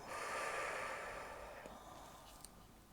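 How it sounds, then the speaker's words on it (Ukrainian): A person takes one deep, close breath in through the nose and lets it out through the mouth, an airy, clearly heard breath during an ASMR eye exam. "Зробите глибокий вдих носом і видих ротом."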